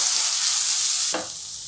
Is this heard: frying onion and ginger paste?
yes